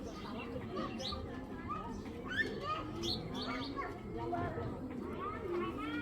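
Racing pigeons, including a young 2023 cock bird, chirp and coo in repeated short calls over a constant noisy background, while someone talks.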